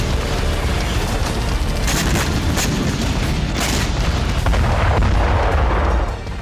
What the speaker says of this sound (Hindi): डोनेट्स्क के टोरेत्स्क में मौजूद रूसी बॉम्बर्स ने भीषण बमबारी की।